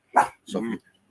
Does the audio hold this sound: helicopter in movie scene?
no